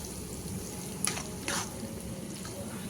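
Cabbage curry sizzles and crackles steadily in a pan as chopped coriander goes in, with a couple of brief stirring scrapes over the continuous frying hiss.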